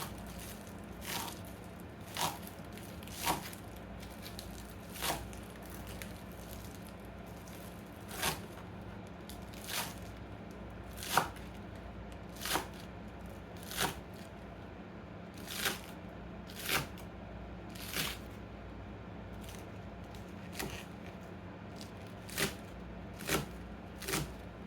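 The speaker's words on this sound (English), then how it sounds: "I'm going to go ahead and chop them up. I do like the greens and the onions." Greens and onions are chopped with a knife in a steady series of crisp, close cuts, roughly one every second or two, over a quiet background.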